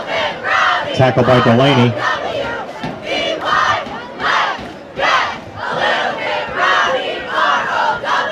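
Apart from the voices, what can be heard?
Durfee cheer section cheering at football game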